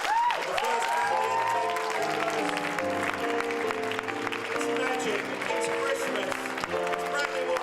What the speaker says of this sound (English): Round of applause for all the stars.